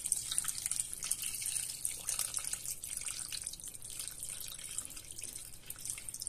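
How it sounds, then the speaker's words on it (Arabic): Tap water pours steadily into a bowl of raw chicken pieces being cleaned with sugar, a continuous close splashing and trickling with no talk over it. "وابتدي بقى ان انا اضيف مية كده"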